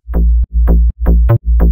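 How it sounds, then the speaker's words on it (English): Bouncy synth bass line from a house music drop, four punchy, loud notes in quick rhythm with brief gaps between them, heavy low end and a bright attack on each hit. "Bouncy bass line. Yeah, that's what I like."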